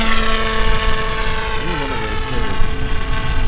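A homemade ultralight airplane's engine runs at full power while flying straight and level, giving a loud, close propeller drone with steady tones that rise slightly as it speeds up. There is no talk over it.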